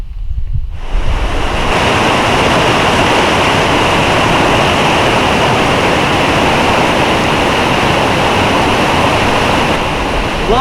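Small waterfalls in the 4000 Islands of Laos on the Mekong give a loud, continuous rushing roar that starts abruptly and holds steady throughout, mixed with some wind buffeting and no talk.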